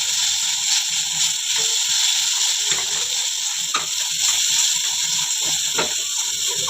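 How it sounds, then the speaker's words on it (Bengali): Mashed mankochu taro paste being stirred in a kadai, with steady scraping and clicking of the utensil against the pan over a continuous soft sizzle, close and fairly loud, no talking. "এবার আমি কচু বাটাটাকে নাড়তে থাকি।"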